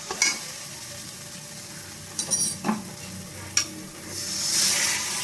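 Spice paste for an egg curry is stirred and fried in a pan, with a soft sizzle beneath a few sharp scrapes and clinks of a spoon against metal, then a brief louder hiss near the end.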